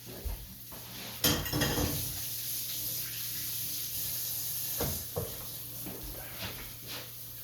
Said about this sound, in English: I am cooking up our pieces of chicken that were wrapped in that, my God, that hateful prosciutto